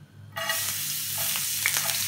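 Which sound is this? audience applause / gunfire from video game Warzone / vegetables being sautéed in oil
vegetables being sautéed in oil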